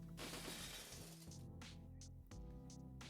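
A game glass-shatter effect bursts in loud and dense, then fades into scattered tinkling fragments over a low rumble, with a few sharp clinks near the end.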